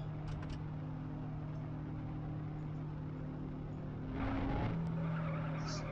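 A car in a mobile driving game brakes hard and skids, a short loud screech near the end rising over a steady engine drone.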